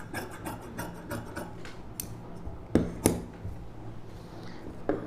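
Scissors cut silk cotton blouse fabric at close range, giving faint, irregular snips and crisp clicks. A few sharper cuts stand out in the middle of the sequence.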